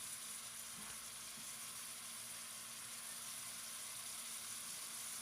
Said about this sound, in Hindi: अब हम इसको मीडियम फ्लेम पे तब तक फ्राई करेंगे कि हमारे टमाटर जो हैं ये भी अच्छी तरह से गल जाएं और मसाला भी हमारा अच्छे से भुन जाए